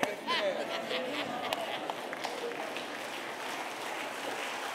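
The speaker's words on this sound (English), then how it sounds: "That's the sorriest clap I've gotten in years right there" A church congregation gives thin, scattered applause, soft and steady with only a few distinct claps, fading to a low murmur.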